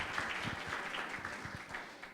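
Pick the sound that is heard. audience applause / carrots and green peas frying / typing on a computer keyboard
audience applause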